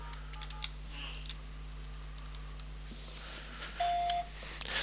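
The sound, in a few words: telephone dialing *77 tones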